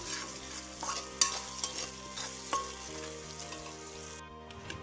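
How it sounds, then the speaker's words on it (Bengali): Spices being stirred with fish and taro in a hot pan, a continuous soft sizzle under repeated scraping strokes and a few sharp utensil clinks, close and moderately quiet. "সব কয়টি মশলাকে দিয়ে ভালোভাবে নাড়বো"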